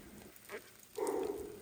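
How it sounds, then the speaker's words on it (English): Rain falls in fog on a mountain trail, a steady soft hiss of drops hitting the ground and leaves nearby, with a brief heavier patter swelling partway through. "it's still kind of raining, but not as hard as it was down in the valley"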